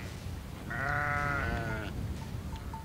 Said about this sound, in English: They allow hundreds and thousands of sheep and goats to walk across here